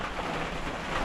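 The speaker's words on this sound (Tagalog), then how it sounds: "Ulan." Heavy rain pouring outdoors near a lake, a steady dense wash of falling water with no breaks across the short stretch and no voices.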